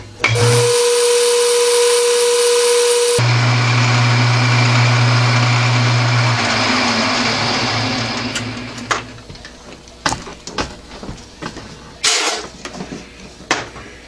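A lathe with a centre drill runs with a steady, loud machine hum and whine for several seconds, then winds down into scattered clicks and clunks.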